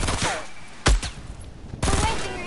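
Sniper gunfire in the video game Trove: one sharp, loud shot cracks out, followed by a fainter second report, set against steady game noise.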